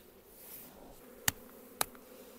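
Honeybees buzz faintly as a hive frame is shaken on a hot day, a soft, thin drone with two sharp clicks cutting through it.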